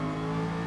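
Race car engine in Gran Turismo Sport held at high revs against the limiter, a steady loud buzzing drone with strong tonal harmonics throughout, no talk.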